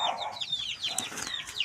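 Several chickens cluck and chatter softly nearby in quick, overlapping calls.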